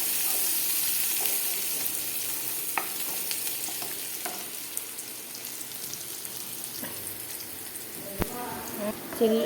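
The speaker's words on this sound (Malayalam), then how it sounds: "ചട്ടി ചൂടായാൽ അതിലേക്ക് ചീരുള്ളി ഇട്ട് കൊടുത്ത്" Soft continuous sizzling of shallots frying in a hot pan, with occasional scraping taps of a spoon stirring.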